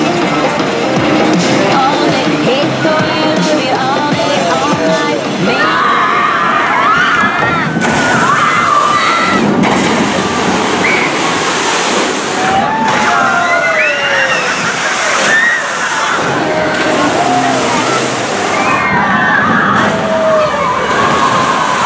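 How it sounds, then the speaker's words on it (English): Water splashes and sloshes at the Shipwreck Falls boat ride at Six Flags America, churning and rushing loudly in surges while voices shout and chatter over it. "A lot of the Six Flags parks have a boat ride that does a big splash, and Shipwreck Falls is just that ride."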